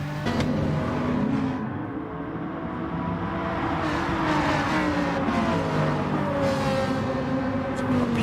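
Race cars in the GTTCC racing game run continuously on track, engines droning and revving with shifting pitch while a car slides through a drift; loud and steady throughout with no talk.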